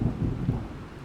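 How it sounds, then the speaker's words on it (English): Heavy rain falls while thunder rolls, a deep rumbling swell that is loudest at the start and then eases off slightly under the constant patter, with no voices present. "heard the terrifying sound of rain and thunder"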